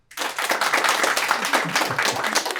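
Steady, dense applause from a live comedy show audience at Le Solo answers a show-of-hands style poll, a close crowd clapping continuously for a couple of seconds with no speech over it.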